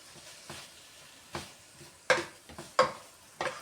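Oily, fatty meat browns in a pan for chili con carne under a faint, low sizzle, broken by about five sharp spatula scrapes and clinks against the pan at uneven intervals.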